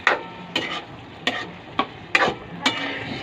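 Bottle gourd and sardines being stirred in a home cooking pot, a series of sharp scraping clacks about every half second over a low background, with no one talking.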